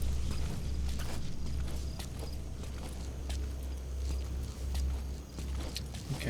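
Horse hooves in Metal Gear Solid V: The Phantom Pain, a steady, fairly quiet clip-clop rhythm of walking hoofbeats over a low rumbling background, with no voices.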